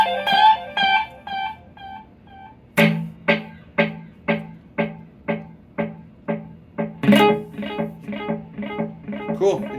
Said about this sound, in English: that's a perfectly functional delay pedal as well